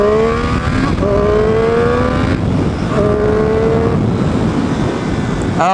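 Triumph Street Triple 765 RS from 2018 riding at speed, its three-cylinder exhaust loud and close, with rising revs through the gears and shift breaks, under heavy wind noise.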